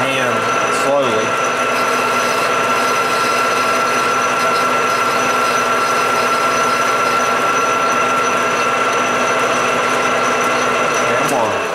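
A lathe machines bronze thrust washers for a 1980 Can Am MX-6 125 restoration, with light hand-fed cuts. It makes a loud, continuous whine and hum that runs unbroken from start to finish.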